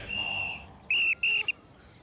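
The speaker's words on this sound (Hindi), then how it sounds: "पिछले सिग्नल से सीटी पे सीटी बजा रहा हूँ" A traffic policeman blows sharp, shrill whistle blasts on a street: one faint tone first, then two loud, close, short blasts in quick succession, with no talk over them.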